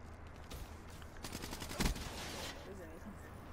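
Gunfire in the video game Call of Duty Black Ops 3, with faint rapid shots building to a burst of automatic fire and one sharp louder crack, all fairly quiet in the mix.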